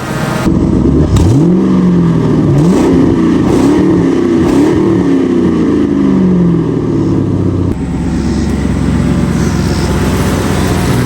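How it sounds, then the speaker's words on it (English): A loud drift car engine idles roughly, then revs up several times in quick bursts, pitch rising and falling with each blip, close by. "I'm gonna give it a little rev for you"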